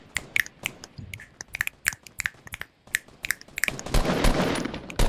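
Rapid bursts of automatic gunfire in the Fortnite video game, sharp cracks firing in quick clusters that build into a dense, louder stretch of sustained shooting near the end.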